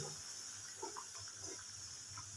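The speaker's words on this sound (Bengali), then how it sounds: "মাখা মাখা হবে আমি সেই রকম অনুযায়ী জলটা দিলাম" Water is poured into a potato and pointed gourd curry in a pan, making a faint, steady, continuous hiss with soft bubbling.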